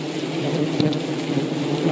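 Bees buzz around a nest in a tree outdoors, a steady low drone that holds evenly throughout, with a faint brief click partway through.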